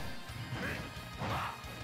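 Wolf's up smash attack in Super Smash Bros. Ultimate lands as a loud crashing hit, with a second heavy impact burst following shortly after amid steady game noise.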